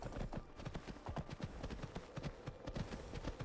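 Horse hooves in the Skyrim video game, played with the Lorerim modlist: a steady, fast, galloping clip-clop with dense, rhythmic hoof beats that continue throughout at a close, even loudness.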